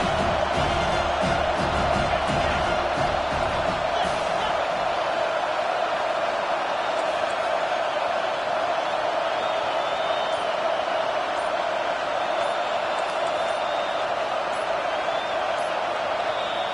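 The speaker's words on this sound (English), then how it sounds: "Listen to this crowd just shaking the girders of this place," A dense stadium crowd roars continuously at a Texas football game, backing its defense with a loud sustained wall of cheering and whoops. Nobody speaks over it.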